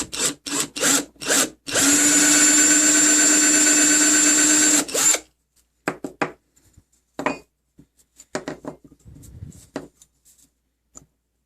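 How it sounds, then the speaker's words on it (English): A power drill whirs steadily for about three seconds at close range, drilling out posts on a 1970 Pontiac GTO, framed by knocks and clatter of tools before and after. "we're going to drill out our posts"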